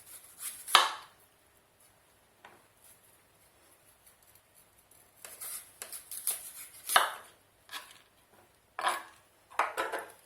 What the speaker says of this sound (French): Alors maintenant, on va couper les extrémités.